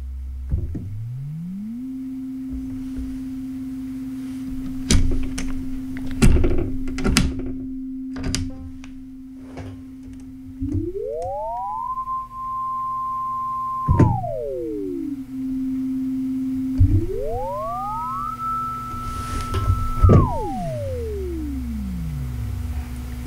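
Synthesizer oscillators passing through a slew rate limiter, steady sine-like tones that glide slowly up and down between held pitches, with faint knocks and clicks in the background.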